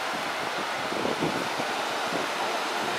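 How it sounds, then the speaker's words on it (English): Rough surf at a resort beach in Rishikonda, Vizag, rolls in as a steady broadband wash mixed with wind noise on the microphone, continuous and fairly close, with no talking. "And this here is the beach. As you can see, the waves are not so calm."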